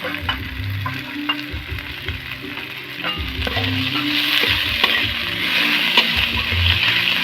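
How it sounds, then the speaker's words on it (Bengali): Tomatoes fry in a pan with a loud, steady sizzle and crackle. Bursts of stirring and spatula scraping recur throughout. "এরপর আমি টমেটো গুলো দিয়ে দিই"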